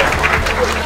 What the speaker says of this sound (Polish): wielkie brawa dla pani młodej obecnej